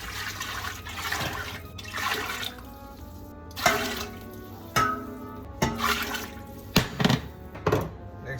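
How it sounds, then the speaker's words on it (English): Water pours into a stew pot in a home kitchen, a steady liquid rush with a few knocks and thunks of the pot and containers, fairly close and with no talking. "We're gonna add another 16 cups of water"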